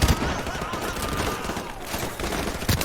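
Video game gunfire in Call of Duty Modern Warfare Remastered as enemies are picked off coming up a hill: dense, rapid shots under a busy battle din, close and continuous, with a short burst near the end.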